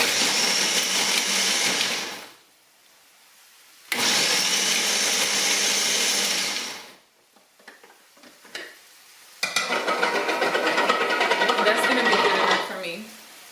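Cooked turkey meat being shredded in a food processor on the shred setting: loud, steady motor whir in two bursts of about three seconds each, with brief clattering pauses between and a final longer run.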